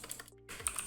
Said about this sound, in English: I keep typing the wrong thing